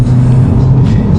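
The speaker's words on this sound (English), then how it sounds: "Oh, evil acceleration!" A Volkswagen Scirocco with a 6-speed DSG double-clutch gearbox accelerates, giving a loud, steady low engine rumble heard from inside the car.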